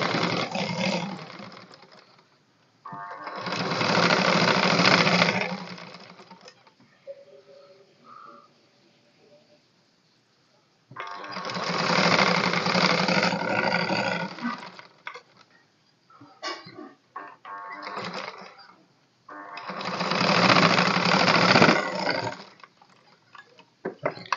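A sewing machine stitches along the folded edge of a waistband piece in three loud sustained runs, each a few seconds long, separated by quieter pauses with faint handling noises.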